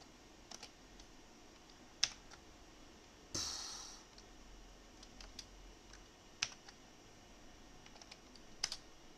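Someone types on a computer keyboard at a vintage Goupil computer, producing sparse, faint key clicks with a few sharper taps and a brief louder rustling burst.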